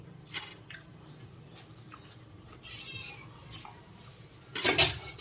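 Hungry domestic cats, one striped like a tiger, give a short, loud meow near the end, after faint scattered mews and household rustling in a quiet room.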